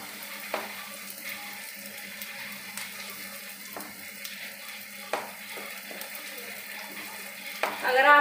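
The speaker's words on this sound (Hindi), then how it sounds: "जो हमने अदरक कद्दूकस करके रख रखी थी वो गरम ऑयल में डालना है लहसुन के साथ" Grated ginger and garlic frying in hot oil for a garlic and ginger pickle: a soft, steady sizzle with occasional clinks and scrapes of stirring.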